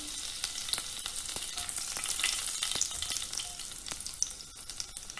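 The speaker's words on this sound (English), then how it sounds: "Heat 2 tablespoons of vegetable oil. Temper it with some cumin seeds. Add in the green chilies." Green chilies and cumin seeds frying in hot vegetable oil, a steady close crackling sizzle with scattered sharp pops and spits throughout, no voices.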